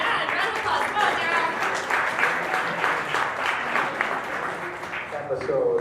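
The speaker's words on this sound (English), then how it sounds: "round of applause" Audience applause greets the president and founder as he is invited to the stage, a dense, steady burst of clapping from a crowd with voices and cheers mixed in throughout.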